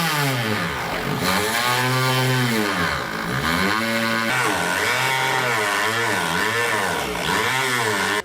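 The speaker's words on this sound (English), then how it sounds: "if you have a Dremel, that's going to be the best tool. We're going to go ahead and cut this out now." A Dremel rotary tool cuts out a panel for a Curt trailer hitch receiver install on a 2017 vehicle, its high motor whine rising and falling repeatedly as it bites into the material, loud and close.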